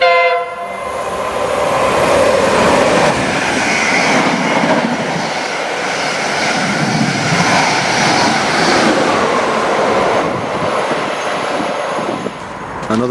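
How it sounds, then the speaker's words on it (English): An express train races through a London station platform without stopping, a loud sustained roar of wheels and carriages with a horn sounding near the start, holding steady throughout. "An express coming through."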